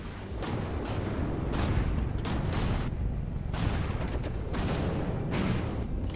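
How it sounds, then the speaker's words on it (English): Cannon fire from warships in the naval combat game From the Depths: repeated heavy booms and blasts at irregular intervals over a constant rumbling din, loud and dense with no voices. "just so I can actually see those cannons fire"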